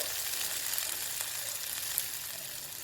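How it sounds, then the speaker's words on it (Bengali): Spices, including cumin powder, sizzle and crackle steadily in a hot pan, a continuous bright hiss with scattered pops and no voices. "আমার সব মশলা ভাজা ভাজা হয়ে গেছে"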